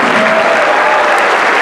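A full, sustained round of applause rises from the audience at an ASEAN Young Leaders Summit for the delegates from ASEAN, loud and unbroken across the whole stretch.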